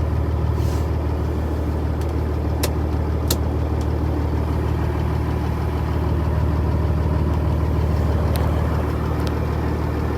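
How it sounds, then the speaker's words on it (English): A truck engine idles with a steady, loud, low rumble throughout, a constant drone with a few faint clicks above it. "And let me turn my truck off."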